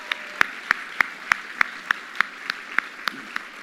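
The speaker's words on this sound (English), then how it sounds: "Let's give them all a round of applause" Clapping at a NAMI-NYC gathering, heard as crisp, evenly spaced single claps at a steady rhythm, close and clear over a quiet background.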